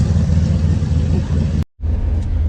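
A 1991 Chevrolet Silverado 1500 with a turbo engine driving on a hot day, a loud steady engine rumble from inside the cab, cut by a brief dropout before the drone resumes.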